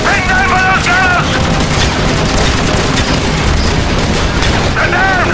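Call of Duty MW3 battle on a wet, rainy night: loud, continuous gunfire and booming explosions fill the whole stretch, with shouted voices briefly rising over the din.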